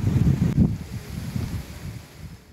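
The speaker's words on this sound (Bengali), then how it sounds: "বেড়েছে বাতাসের গতিবেগ" Strong wind blows on the Bangladesh coast ahead of Cyclone Remal, buffeting the microphone in loud, gusty roars that ease off toward the end, with no talk.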